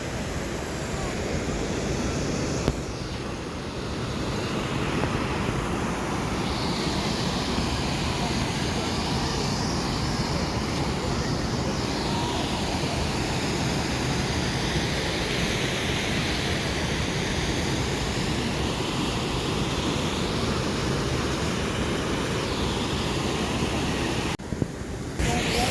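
Steady wind roaring and buffeting at Gunlock Falls, a loud, continuous broadband rush with the rumble of falling water mixed in, lasting the whole time with no clear voices.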